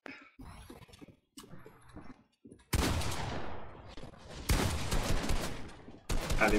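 Bursts of gunfire in a boxfight video game, loud dense volleys starting and stopping abruptly, with players talking in French between and under the shooting.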